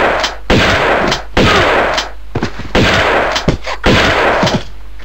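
Bursts of video-game gunfire in Tomb Raider 2 as enemies are shot, four dense volleys of rapid shots separated by short pauses, loud and close with no talking.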